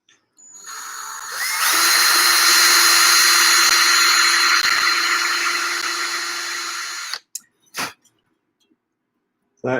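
A power drill runs steadily for about five seconds with a high whine, boring a hole to a set bit depth, then stops, followed by a few short clicks and knocks.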